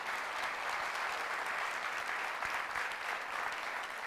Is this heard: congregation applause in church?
yes